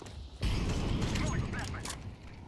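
An incendiary grenade bursts into fire in Counter-Strike 2, a sudden loud whoosh at about half a second that settles into a sustained roaring, crackling burn with a player's voice over it.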